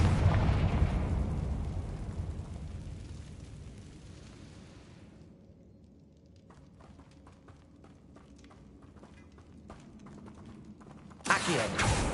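A Confringo explosive spell blast in Hogwarts Legacy opens with a loud, broad burst that rumbles and decays over several seconds. Scattered clicks and pops follow, and a second sharp burst arrives near the end.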